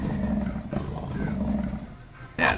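A tiger's roar in The Wolf Sim video game, a low, rough growl that holds steady for about two seconds before a louder burst at the end.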